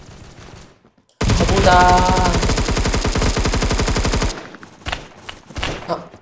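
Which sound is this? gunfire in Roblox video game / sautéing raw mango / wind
gunfire in Roblox video game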